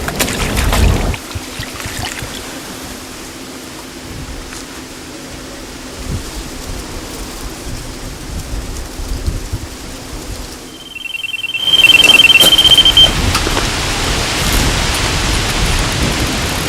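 Steady rain falls through the night beside a carp fishing lake, a dense, even hiss that dips briefly before returning louder and closer, with a faint high tone sounding for a moment near the end.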